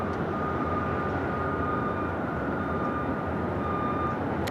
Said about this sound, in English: That is Flight 33 heading to Kahului, A330 heading up there to 24 left.